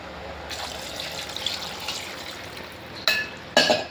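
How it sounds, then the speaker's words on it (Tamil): Water pours steadily into a pressure cooker with a continuous splashing rush, followed by two sharp metallic clanks near the end. "தண்ணி ஊற்றிக்கலாம்."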